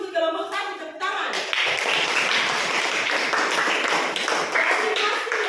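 A school class claps for group 1 after a presentation: after a short spoken instruction, many students break into brisk, steady clapping that fills the room and continues loudly to the end.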